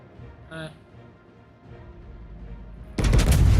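Naval guns firing shells in World of Warships, a sudden loud booming salvo near the end after quieter rumbling and a brief tonal alert.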